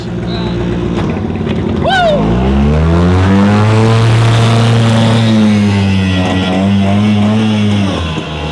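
A 1963 amphibious Penguin car's two-stroke engine runs rich in a garage, a loud buzzing drone that revs up sharply then holds a steady, rising and falling tone up close.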